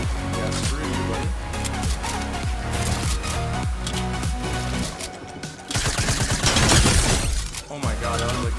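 Rapid, sustained automatic fire from Fortnite rattles on almost without pause, the shots packed closely together and loud throughout, with a brief dip before an even denser stretch.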